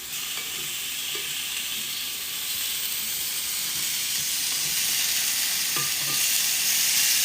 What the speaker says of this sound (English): Let me flip our sausages over here as they're sizzling up nicely.